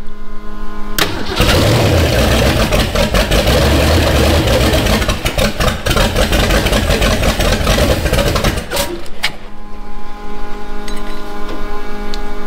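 A rat rod car engine is spun over by the starter, a loud continuous cranking churn lasting about eight seconds before cutting off, leaving a lower rumble.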